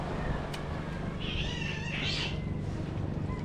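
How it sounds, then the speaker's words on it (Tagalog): A pet cat meows once, short and moderately close, over steady outdoor background noise at a seaside house with wind and waves. "Kaawa yung pusa namin."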